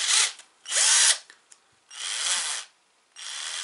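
Cheap Topway cordless drill-driver run in second gear, whose gear selector tends to slip: four bursts of close, loud whirring motor noise, each lasting about half a second to a second, separated by short pauses and small clicks.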